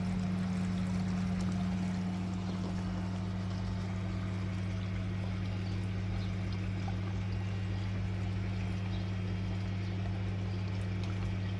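Water pours steadily from a koi pond drum filter as it is drained of algae-laden water, a continuous close rushing flow under a low pump hum, with no talking.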